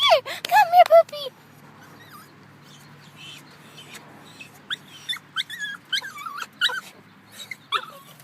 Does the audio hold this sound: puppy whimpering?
yes